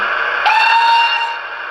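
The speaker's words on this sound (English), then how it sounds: "So you've got whistle medium" A single medium-length steam whistle toots over a steady background hiss from a Hornby King Edward V model locomotive's sound system, bright and fairly close, lasting under a second.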